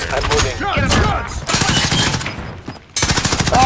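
Rapid bursts of automatic gunfire crackle loud and close in a video game shootout, continuous volleys with brief gaps and a sharp restart near the end.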